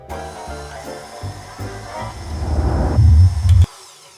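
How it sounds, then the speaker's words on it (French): KitchenAid stand mixer running at speed 2, blending flour, salt and sugar for burger buns: a close motor whir with rhythmic knocking and scraping that grows louder and rougher before stopping abruptly. "On va mélanger dans le robot la farine, le sel et le sucre."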